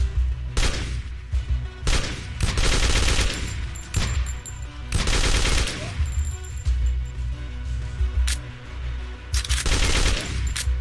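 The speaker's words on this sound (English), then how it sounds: "I really don't appreciate how you're shooting me through the wall." Rapid bursts of enemy gunfire in the video game Be Gone Ghosts, loud repeated volleys firing in several clusters across the stretch with brief pauses between them.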